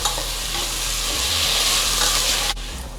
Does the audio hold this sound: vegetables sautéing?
yes